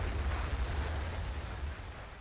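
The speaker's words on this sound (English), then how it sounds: "Santi's gonna drop the artillery on the flag radius." Artillery barrage in Battlefield 2 conquest play, a continuous deep rumbling roar of heavy blasts that stays loud and dense throughout, with no clear separation between impacts and no talk.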